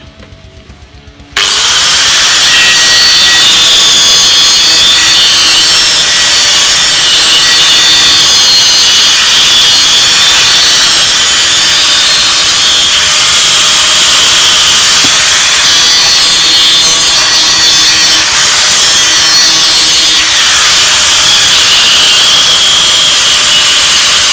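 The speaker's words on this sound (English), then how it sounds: "I'm just going to taper the ends with the cutting disc." A cutting disc on an angle grinder tapers the ends of steel bolts, a loud, steady high-pitched grinding whine that starts abruptly and holds for the full length, close and alone.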